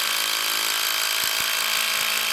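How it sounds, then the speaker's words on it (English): Power drill driving a long fastener through an outer deck joist and a 4x4 post while installing a deck handrail post, a steady loud whirring drone with a few short knocks near the end. "we're going to drive it all the way in through the joist, the outer joist, the 4x4"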